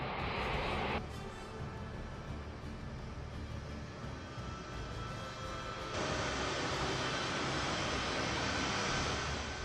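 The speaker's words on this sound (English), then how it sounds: "In the Middle East, the aircraft touches down." A military aircraft touching down in the Middle East, a loud, steady engine roar that fills the whole clip, its high whine dropping away after a second and a brighter rush of engine noise swelling near the end, with no voices.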